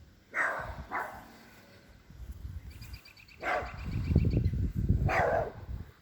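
Charlie, a small dog, barks in the background in several sharp, moderately distant yaps spread across a few seconds over low rumbling noise.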